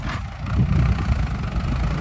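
Ford 6810 four-cylinder turbo tractor engine idling, a steady low rumble held close and constant throughout without any voices.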